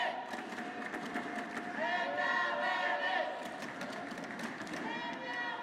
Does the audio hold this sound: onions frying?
no